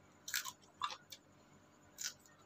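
Three crisp bites into crunchy raw home-grown Thai eggplant, each a short bright crunch spaced apart in a quiet setting with no voices.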